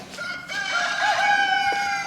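Chickens call loudly and close by, a drawn-out, tonal squawk that rises and holds, with no voices nearby.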